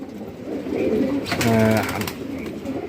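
A pigeon coos close by, a soft low rolling call that swells in the middle of the short stretch, with faint background noise and no speech.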